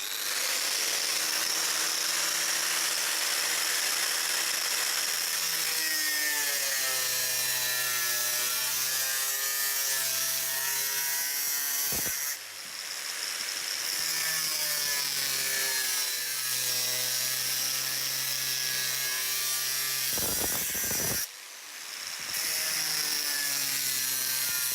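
A cutting wheel slices through a steel wheel arch panel on an MGB GT Sebring, a loud whining grind that shifts in pitch as it bites, with two short pauses before the cutting resumes.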